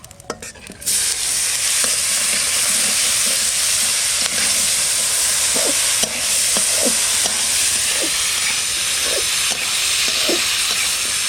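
Loud, steady hiss of chopped vegetables frying in hot oil, with occasional scrape and knock of a spatula against the pan; no voices.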